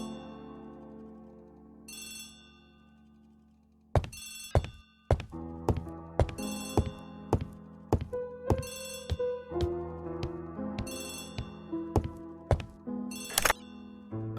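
An old-fashioned telephone bell rings in repeated bursts in a quiet room, each ring a sharp metallic trill, with knocks and thuds between and around the later rings.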